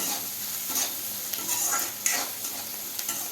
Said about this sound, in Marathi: कांदा लवकर मौसूत व्हावा आणि शिजावा त्यासाठी मी थोडं इथे मीठ टाकते